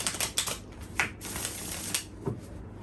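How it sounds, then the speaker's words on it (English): Tarot deck being shuffled by hand, giving a quick close burst of papery riffling and flapping card clicks, with a few sharper snaps, and no talk. "One more shuffle."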